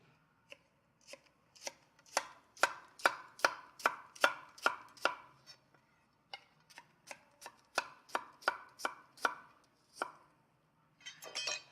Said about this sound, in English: I'm going to take this and I'm going to cut it radially